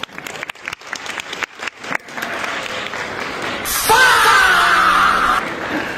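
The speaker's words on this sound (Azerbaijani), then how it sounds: "Bir dənə alqışlaya bilərik 1 saniyəlik." Applause for a friend's birthday, a crowd clapping loudly and steadily with some cheering, preceded by scattered claps and voices.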